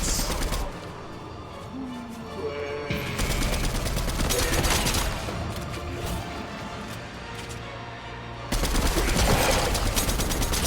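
Fortnite weapon fire comes in rapid automatic bursts, loud and dense, in several long stretches separated by short lulls, with layered game effects and no clear talk.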